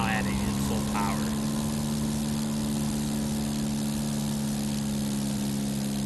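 A simulated aircraft engine in Flight Simulator roars at full power during stall and spin practice, a steady loud drone with strong low tones, joined briefly by a couple of short alert tones near the start.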